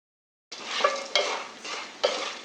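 Popcorn being stirred in a pan at home, lightly salted: steady scraping sizzle with three sharper scrape accents, close and fairly loud, no voices.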